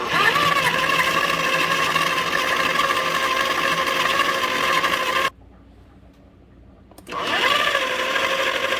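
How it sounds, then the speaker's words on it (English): An electric grinder whirs loudly and steadily while grinding food, stops for about two seconds of near silence, then starts up again at full volume. "Okay, and gonna turn it on. Grind it up for a little bit."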